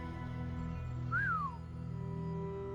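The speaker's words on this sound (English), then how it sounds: "I think the others are ignoring me with my whistle" A player's whistle in the video game Ark, used to call and tame dinosaurs, gives one short rising-then-falling tone over a steady drone of game ambience.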